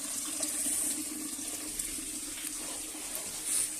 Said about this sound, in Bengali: এখানে কি করছো? পানি ফেলছো কেন?